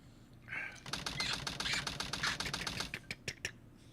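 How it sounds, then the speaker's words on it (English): Rapid mechanical clicks of a text-typing sound effect in a Sonic game on the Sega Dreamcast, a fast even run of ticks for a few seconds that slows into spaced final taps. "I always like that little like typing sound"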